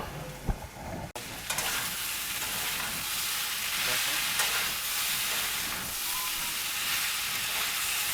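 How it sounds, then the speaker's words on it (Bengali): Shukto vegetables being sautéed in a pan: a steady, loud hiss and sizzle of frying, with a sharp clatter and brief knocks near the start, then continuous frying with occasional stirring scrapes. "এবার আমি ভালো করে কষিয়ে নেব।"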